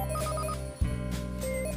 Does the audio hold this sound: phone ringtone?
yes